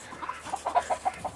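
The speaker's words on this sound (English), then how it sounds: "Been nice having the chickens just free ranging around." Free-ranging farm chickens cluck in a quick series of soft, rhythmic notes, fairly faint and close, with no one talking.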